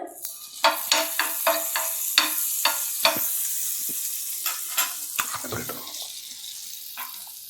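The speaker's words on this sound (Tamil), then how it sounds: "ப்ரெட்டை டோஸ்ட் பண்ணிக்கலாம்." Bread toasting in butter on a pan, a soft sizzle with a quick series of sharp taps and scrapes from a spatula, then quieter shuffling, close by.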